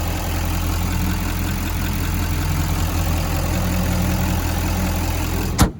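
A 2016 Chevrolet Silverado 3500 pickup's 6.6-liter turbo diesel engine idles steadily with a deep, low rumble throughout, then a short sharp noise at the very end.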